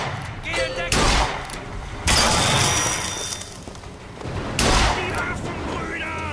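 Sniper gunfire cracks in BioShock Infinite, with several sharp loud shots and bursts mixed with game noise and someone talking over the action.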